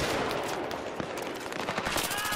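Rapid gunfire from the Xbox 360 game Battlefield 3, a dense continuous burst of automatic shots that stays loud and steady throughout, with a faint voice barely underneath.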